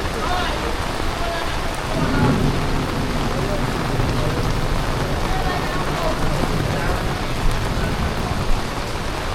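Heavy rain falling on a wet street in Montego Bay, Jamaica, a dense, steady hiss with no letup, loud and close throughout.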